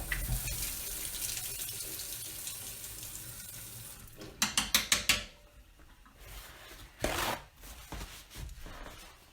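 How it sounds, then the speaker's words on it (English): Water running from a tap while a paintbrush is rinsed, a steady hissing stream with a few louder splashing bursts as the brush moves under the flow. "Let me rinse out my brush."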